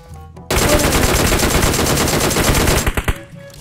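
Rapid automatic gunfire in a shooting video game, a loud dense burst of shots lasting about three seconds, ending in a few separate shots before it stops.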